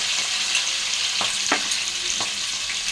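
Oil fries in a pan for a fish curry, a loud continuous hiss of sizzling with a few soft scrapes and knocks of stirring, close up and without any voices.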